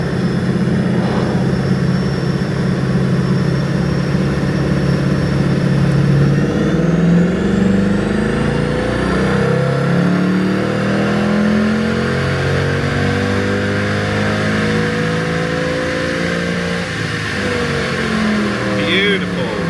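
Car engine fitted with a BMC air filter revving and pulling from inside the cabin, a loud continuous roar rising and falling in pitch through the gears.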